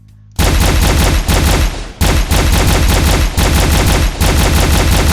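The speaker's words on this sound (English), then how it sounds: "Then he has the dispersion pistol, which recharges itself." A self-recharging dispersion pistol fires in a video game, loud and close, in rapid continuous bursts broken by a few brief pauses.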